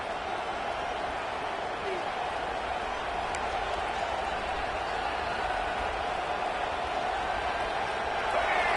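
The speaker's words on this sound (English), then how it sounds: "The roar of the crowd trying to fuel this defense to keep them pinned in their own end" A steady, broad roar from a stadium crowd in the college football video game NCAA 25 Football, a dense, continuous wash of noise that swells slightly near the end, heard under a commentator's voice.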